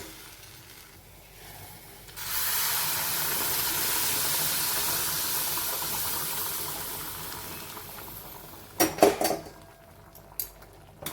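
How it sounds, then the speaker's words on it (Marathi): Hot water poured into a pan of ragi upma sets off a loud, steady sizzling hiss for about six seconds, fading out and followed by a few sharp clinks of a utensil against the pan. "आता आपण याच्यामध्ये पाणी घालूया"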